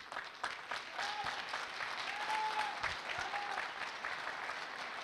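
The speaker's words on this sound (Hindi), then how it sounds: "तालियां होनी चाहिए।" Audience applause at a leadership development training session, a steady, dense wash of clapping from a sizeable group that carries evenly through the whole stretch.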